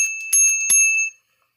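A bright bicycle-style bell sound effect, serving as a subscribe reminder, dings twice in quick succession with a ringing tone that fades out within about a second.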